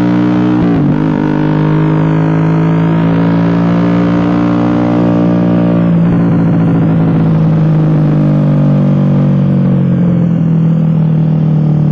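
A Suzuki GSX-R150 motorcycle fitted with an aftermarket SC Project exhaust idles loudly and close by, with a deep, rich engine drone. A sharp blip of the throttle stands out over the sustained rumble, and no one speaks.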